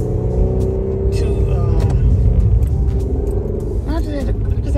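Car engine rumbling in a manual-transmission car, a steady low drone with faint pitch shifts as gears change, under ongoing talk inside the car.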